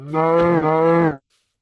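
A cow in the Minecraft video game gives a single drawn-out moo, a little over a second long, clean and close, with silence after.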